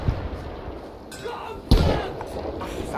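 A rocket is fired at a tank in the video game Battlefield V, landing as a single sharp heavy thump followed by a short rumble. Players talk around it.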